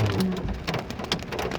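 Hail and heavy rain pelt surfaces during a storm in Adelaide, South Australia, a dense continuous patter of close impacts with no voices.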